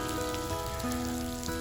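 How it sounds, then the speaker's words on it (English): Steady rain from a thunder shower in the Gunma mountains near Mt. Myogi and Lake Haruna, a dense even patter on surfaces with a faint background hum and no voices. "I got some thunder showers, so I decided to wait for a little while."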